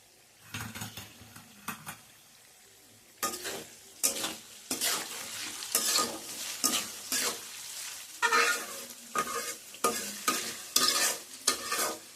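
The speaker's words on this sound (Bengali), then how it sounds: "ভালো করে নাড়াচাড়া করে ভেজে নেব এটা আমার আর একটু তেল লাগবে তাই তেল অ্যাড করে দিলাম" Shredded potatoes fry in hot oil over medium-high flame as a spatula stirs and scrapes the pan, with repeated loud scraping strokes over a continuous sizzle.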